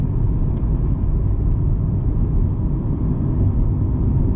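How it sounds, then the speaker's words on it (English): A truck engine with a 5-speed manual gearbox drones steadily and close, a dense low rumble that holds even in level, with no talking over it. "Clutch it out of gear, rev it up in neutral, clutch it into gear."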